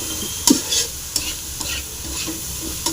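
Gambli dry fish fries in a pan, steady sizzling broken by several short scraping stirs of a utensil, close up, with no voices.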